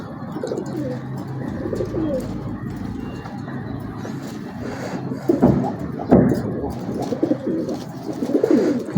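Male and female Kamagar pigeons coo in low, throaty, repeated rolls, close and moderately loud, over a busy background murmur that grows a little louder in the second half.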